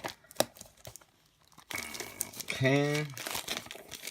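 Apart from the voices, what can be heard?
ripping open plastic packaging of a mystery mini figure box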